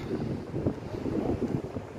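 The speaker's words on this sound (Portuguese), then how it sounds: "E o vento está forte agora." Strong cyclone wind blows across a pier in Florianópolis, a low gusting roar buffeting the microphone, moderately faint and with no talking.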